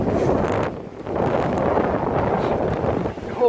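Strong gusting wind at a cabin building site, buffeting the microphone with loud, uneven roaring surges that ease briefly before rising again.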